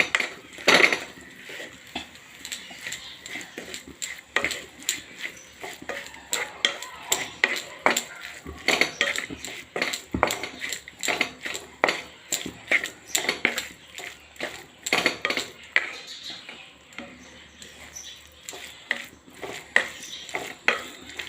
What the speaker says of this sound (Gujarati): બધું મિક્સ કરી લેવાનું છે.